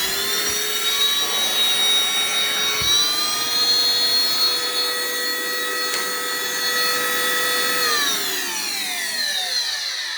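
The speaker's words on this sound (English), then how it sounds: "switch it to dry mode." A Hoover Floormate FH40150 floor cleaner runs in dry mode with a loud, steady motor whine and layered harmonic hum, and the pitch sinks as it winds down near the end.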